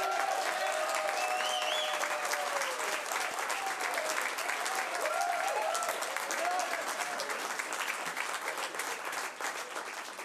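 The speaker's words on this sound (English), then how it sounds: "They're not clapping for me." A packed city council meeting audience bursts into sustained applause, dense and steady throughout with scattered cheers and whoops rising above the clapping, slowly tapering near the end.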